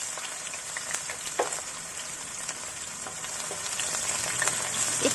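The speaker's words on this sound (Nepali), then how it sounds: "त्यस पछाडि प्याज एउटा काटेर मसिनो गरेर काटेको लगाउँदैछु" Finely chopped onion frying in hot oil with two bay leaves, cloves, cardamom and cinnamon for aloo gobi: a steady, close sizzle with scattered crackles and pops that grows slightly louder toward the end.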